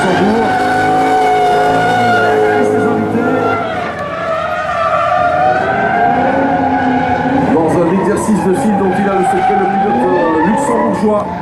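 A Falken Drift Team car drifts around a sunny exhibition track at Luxembourg Expo, engine wailing with long, pitch-shifting tire squeals that rise and fall as the car slides, loud and close, with a commentator talking over it.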